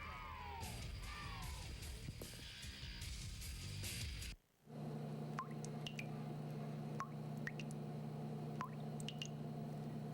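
A dripping faucet in a TV commercial: several sharp, irregular drips plink one at a time over a steady low hum, right after a short burst of loud, shouting broadcast noise cuts to near-silence.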